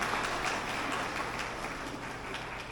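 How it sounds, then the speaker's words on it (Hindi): Faint, steady applause from an audience at an SPDM meeting program in Pharasgaon, Chhattisgarh, a soft continuous patter of clapping heard from a distance with no voices over it. "शानदार तालियां"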